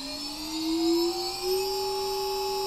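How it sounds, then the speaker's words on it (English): A small 2300 kV brushless electric motor on a battery and ESC tester spins at full throttle, giving a steady high-pitched whine with a slight rise in pitch, loud and close with no talking. "You'll hear the motor not go anymore."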